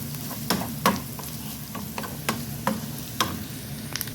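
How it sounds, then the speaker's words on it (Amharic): Finely chopped onions frying in a little oil for an Ethiopian dish, a steady close sizzle with occasional sharper ticks and scrapes of stirring throughout. "ሽንኩርቱና ዘይቱን በደንብ ከጠበስኩ በኋላ"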